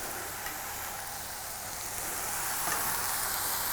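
Mushrooms sizzle and fry steadily in oil in a pan, a dense, continuous crackling hiss that swells slightly louder toward the end, with no talking.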